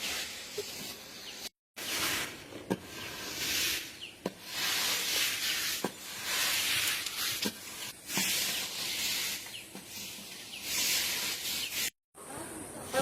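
Water poured into a hot pan of sautéed mustard-paste masala for swarna puti fish with onion gives a loud, steady steaming hiss that surges and fades, briefly cutting out twice, close to the pan.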